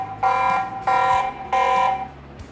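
A Tapo TP-Link C210 security camera alarm beeps three times in long, loud, evenly spaced tones, each a steady buzzing pitch, with a faint hum beneath.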